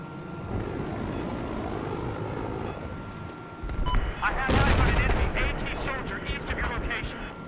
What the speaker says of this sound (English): There's a hostile machine gunner.